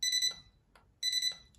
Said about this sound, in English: your scanner is returning three short beeps